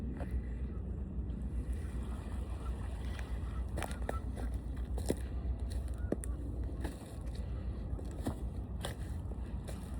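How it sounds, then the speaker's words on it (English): Water washing in on a rocky shore makes a continuous low rush with scattered splashes and clicks, under steady wind noise on the microphone. "just hearing the water come in."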